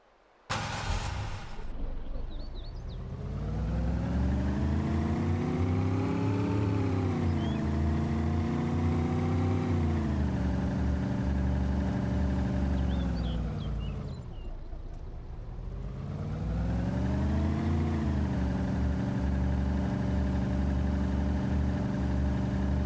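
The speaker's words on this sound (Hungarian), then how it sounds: "Kocsi hangot hallottam a sajátomon kívül." A car engine in the video game Arma 2 DayZ drones steadily, rising and falling in pitch as it revs up and eases off twice, loud and continuous with no talking.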